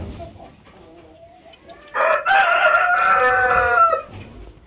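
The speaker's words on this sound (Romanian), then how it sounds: "o familie de cochinchina galben, uriaș." Large yellow Cochin chickens cluck quietly before a rooster lets out one loud, drawn-out crow lasting about two seconds, close by.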